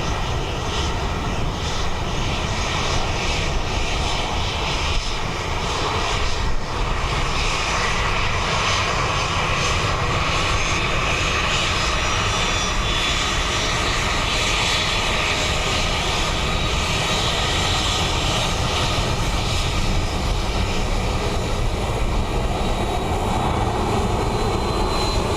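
An Aer Lingus airliner landing on runway 28 left at Dublin Airport on a windy day, its engines a steady, loud roar that holds throughout, heard from nearby with no talking.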